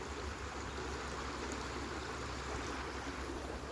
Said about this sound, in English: A little bridge. Seen this before. It looks a little better now. The water running.